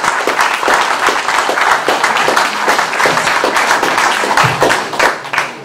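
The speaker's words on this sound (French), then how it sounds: "Merci, c'est gentil de m'applaudir avant que j'ai pris la parole" Dense, steady applause from an audience at a patriotic gathering, many hands clapping together close and loud, with no break, for a president introduced on stage.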